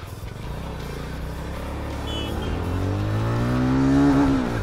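Jawa 42 FJ motorcycle engine on a ride, a steady low rumble that builds and rises in pitch as the bike pulls through first gear, fairly close and continuous with no talking.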